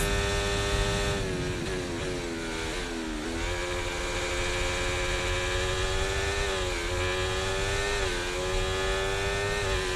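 An F1 car at full throttle in the racing game F1 24, played on a steering wheel setup: a loud, continuous high-pitched engine whine whose pitch climbs, drops at gear shifts and climbs again, with no talking.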